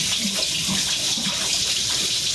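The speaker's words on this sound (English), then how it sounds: "And I'm gonna wash my hands here." Hands are washed under a running kitchen tap, with water pouring steadily into a sink in an even, unbroken splashing stream close by.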